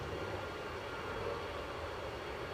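A Delta Airlines Boeing 767 at Edinburgh airport produces a low, distant, continuous engine rumble, faint and unbroken across the short stretch.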